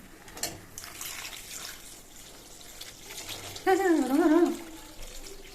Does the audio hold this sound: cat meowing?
no